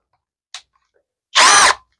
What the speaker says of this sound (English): We could easily put this in the drill